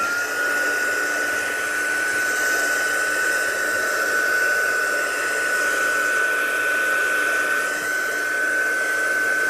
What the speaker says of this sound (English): let me just give that a bit of a blast with a heat gun just to make sure it's dried